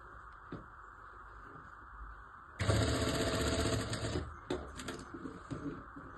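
A sewing machine stitches a one-year-old baby's frock, starting at about 2.6 seconds as a loud, steady run after quieter handling and lasting around a second and a half, then giving way to shorter bursts and clicks.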